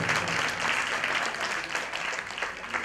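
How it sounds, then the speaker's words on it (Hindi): Loud, dense applause from an audience at a Shrimad Bhagwat Katha gathering, welcoming an elderly temple head; steady sustained clapping throughout with no talk over it. "इतने बुजुर्ग होते हुए भी आज जोरदार तालियों स्वागत करेंगे।"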